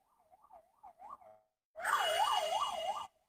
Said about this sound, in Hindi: सॉरी, एक सेकंड, एक एम्बुलेंस जा रहा है,